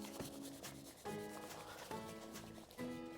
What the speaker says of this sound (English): Just rub it between the hands to make it a fine powder